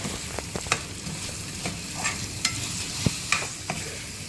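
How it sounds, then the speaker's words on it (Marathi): Frozen peas with salt fry in a pan for hotel-style pav bhaji, a steady sizzle broken by scattered clinks and scrapes of a stirring spoon against the metal. "फ्रोझन मटर नंतर आपल्याला त्याच्यामध्ये मीठ टाकून घेऊया. चवीनुसार मीठ आणि चांगलं फ्राय करून घेऊया"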